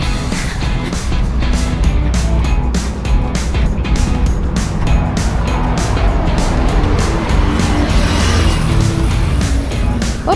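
Steady, loud roar of road traffic with cars and motorcycles passing close by one after another, engines and tire noise blending into a continuous rush.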